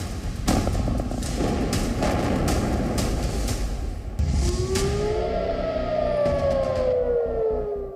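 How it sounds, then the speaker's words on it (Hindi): An air raid siren in Tel Aviv during the Israel–Hamas war wails and rises over dense rumbling noise and scattered heavy thuds, loud and persistent. "तेल अवीव में अचानक सायरन गूंजने की आवाज आ रही है"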